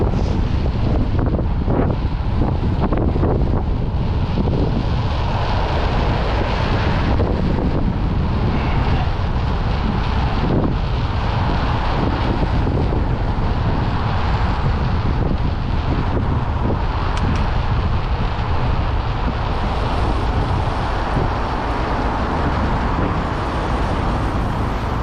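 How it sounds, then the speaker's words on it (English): Strong wind buffets the microphone in a constant heavy roar, gusting louder at moments, with no voices. "It was so windy."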